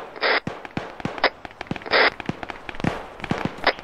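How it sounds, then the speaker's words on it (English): Distant gunfire crackles in the military video game Arma 3, a scattered series of sharp pops and several louder, longer bursts. "I'm hearing gunshots southbound."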